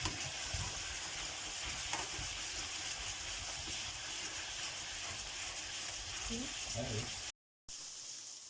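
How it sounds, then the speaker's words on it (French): Asparagus fries in a pan with a dense, continuous sizzling hiss while the spears are turned, with a few soft knocks of a utensil before the sound briefly cuts out near the end. "on vient jouer avec nos asperges en les retournant pour qu'il y ait une belle coloration des deux côtés"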